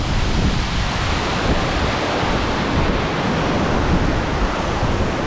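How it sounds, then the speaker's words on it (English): Strong gusts of wind beside a waterfall roar as a loud, steady broadband rush that buffets the microphone continuously for several seconds, with no voices. "Oh, the gusts of wind, man."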